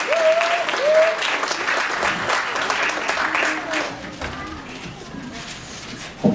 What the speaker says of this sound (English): Let's give it a round of applause for Mrs. Samantha Rockus' class.